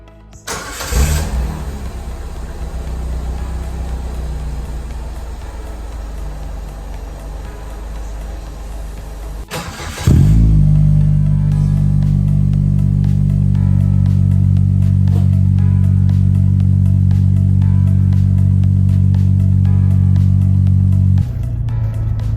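A Holden Astra TS Bertone engine with an HKS aftermarket muffler cranks and starts, settles briefly, then revs into a loud, steady deep drone that holds before cutting off near the end.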